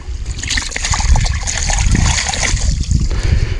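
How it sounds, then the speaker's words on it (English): Water dumped from a bucket into a gold pan while working a paydirt stockpile outdoors, a loud close splashing rush that sloshes and trickles for several seconds. "simply put water into the bucket and then dump it into the pan"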